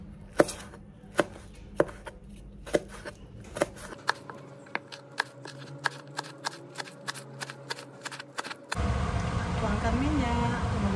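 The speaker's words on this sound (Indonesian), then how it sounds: "Cili pun kita potong juga." A knife chops chilies on a cutting board, first in slow separate strokes and then in faster taps, before a louder background noise takes over.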